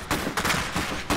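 Sharp gunshot cracks crackle in a quick ragged cluster during combat in the Iron Harvest strategy game, loud and close with no speech.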